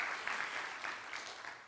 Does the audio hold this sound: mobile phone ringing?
no